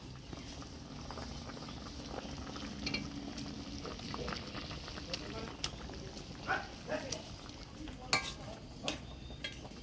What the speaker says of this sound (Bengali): এবার ভাজিয়ে রাখা ফলি মাছগুলো দিয়ে দিন